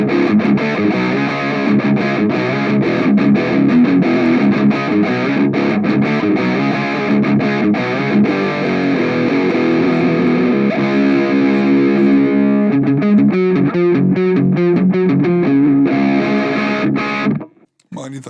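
A heavily distorted electric guitar through a Diesel VH4 amp model on a Nux Mighty Lite BT II desktop modelling amp plays continuous riffs and sustained chords, loud and close, ending in a few choppy, muted strums before cutting off.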